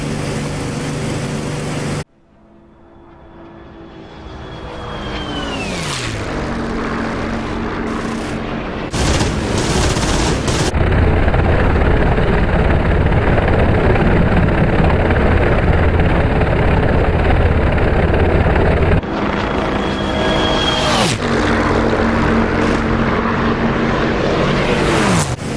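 Spitfire Mk IX piston propeller engine roaring steadily in the DCS World flight game during a dogfight against a Bf 109 K-4, loud and continuous with pitch shifts and brief bursts of gunfire.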